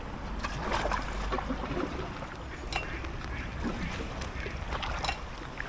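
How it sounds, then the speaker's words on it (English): Ducks quack intermittently in the middle distance on the Peak Forest Canal, heard from an inflatable kayak, over a steady wash of water and boat noise, with no voices. "There may be ducks ahead, but while there's quacking"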